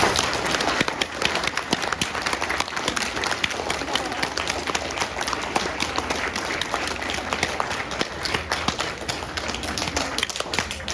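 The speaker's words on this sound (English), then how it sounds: "can we give Mr. Berger a very big round of applause" An audience at a Holocaust survivor's testimony event gives a speaker a long, dense round of applause that holds at an even, fairly loud level for the full eleven seconds.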